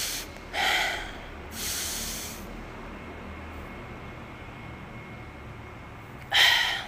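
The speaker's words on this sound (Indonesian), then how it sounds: "akan saya berikan contoh untuk pengambilan nafas melalui hidung" Sharp nasal breath intakes demonstrating inhalation through the nose for breath control in Quran recitation, three short bursts near the start, middle and end, close and fairly loud with quiet pauses between.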